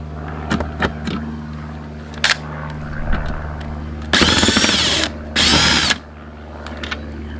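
A power screwdriver whirs in two short bursts of about a second each as it backs a single Phillips screw out of the front marker lens on a 2005 Volkswagen Beetle, preceded by a few light clicks and handling taps.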